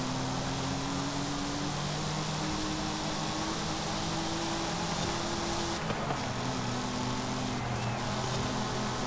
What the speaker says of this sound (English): Quite a high revving engine as well.